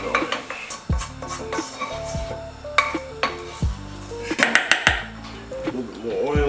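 A utensil scrapes and clanks against a pan while fried rice and eggs are broken up, giving irregular metallic knocks over a light sizzle, with someone talking throughout.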